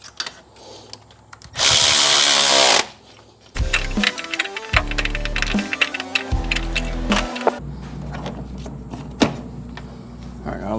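A power tool tightens bolts during a Honda Civic D17A1 engine install, with bursts of whirring and rattling impacts between quieter pauses, close and loud, mixed with workshop clatter.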